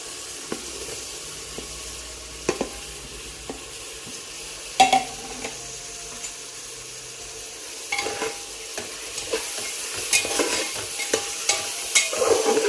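Peas and fried tomato are stirred in a pan for matar pulao, soft crackling sizzle under sporadic spoon knocks and scrapes, growing busier toward the end, close and without voices.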